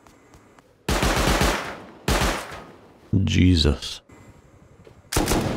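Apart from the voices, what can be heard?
automated turrets firing in video game Rust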